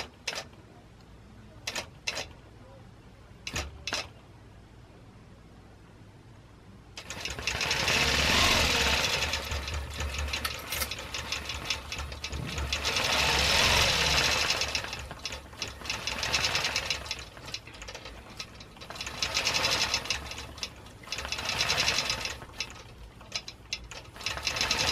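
A computerized Butler Robotics quilting machine starts stitching a flower design after a few faint clicks, then runs with a loud, rattling mechanical drone that rises and dips steadily.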